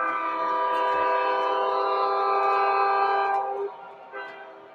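A model train's auxiliary power unit rolls past, a steady harmonic hum and whine that holds loud and close for about three and a half seconds before dropping off quickly as it moves away.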